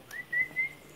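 A person gives a short, clear whistle, a thin rising note that holds for a couple of brief bursts, calling someone over outdoors; no voices over it.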